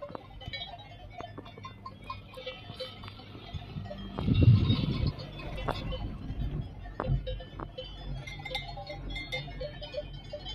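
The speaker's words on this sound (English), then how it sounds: "Yun ang mga ingay na cow." Cowbells clank sparsely and faintly from cows grazing on the Stoos mountain pasture in Switzerland, set against a steady outdoor wash of ambient noise, with a louder low rumble near the middle.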